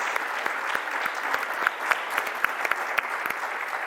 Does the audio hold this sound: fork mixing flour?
no